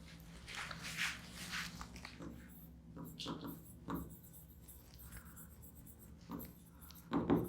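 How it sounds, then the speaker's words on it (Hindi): Someone writes by hand on paper. Short scratchy pen strokes come in small bursts, with quiet gaps between them and a louder stroke near the end. The sound is faint and close, under soft speech. "और दूसरी तरफ मैं लिख देता हूं"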